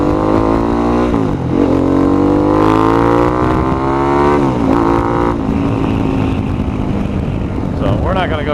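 A 2003 Anniversary Edition Harley-Davidson Fat Boy V-twin rumbles loud and close on a ride, its revs rising and dropping through several throttle pulls and gear changes.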